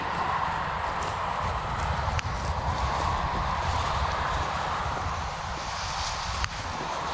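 A Belgian draft mare's hooves clop along on the ground in a steady, fairly close rhythm, with a broad rustling wash of outdoor background noise and no talk.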